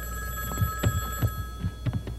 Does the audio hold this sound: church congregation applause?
no